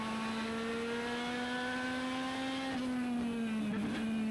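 Simulated stock car engine from a NASCAR-style racing video game holds a steady high drone with clear harmonics, pitch easing slightly as the car slides into a corner; loud and continuous with no talking.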